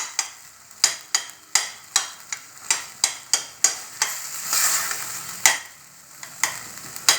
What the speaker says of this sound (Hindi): तो इसको ऐसे चलाते चलाते हमको इसको थोड़ा छोटा भी करते जाना है